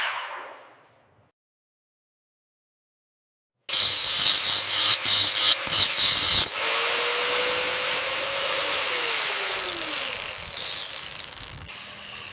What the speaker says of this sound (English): The sanding on this section is complete.